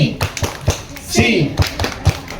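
Children clapping a rhythmic police clapping chant on a class outing, sharp hand claps in a patterned beat mixed with children's and adults' chanting voices, close and loud.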